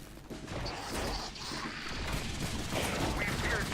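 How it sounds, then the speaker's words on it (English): Laser burst rifle from The Bureau: XCOM Declassified firing in rapid bursts amid battle noise, crackling energy shots layered over a rumbling, busy background at moderate volume. "Laser burst rifle. The audio assets for this game, as you can hear, are okay."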